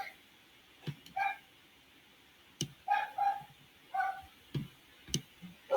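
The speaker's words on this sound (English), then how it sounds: "Sorry about the barking dog." A dog barks in short separate bursts, several sharp yelps spread irregularly across a few seconds, with quiet room tone between them and nobody speaking.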